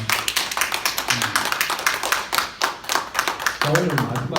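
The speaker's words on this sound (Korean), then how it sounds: "자기 자신을 위해서 박수 한번 보내줄까요?" Clapping from a seminar audience, a few people clapping in sharp, quick bursts close by, with a voice speaking over the end.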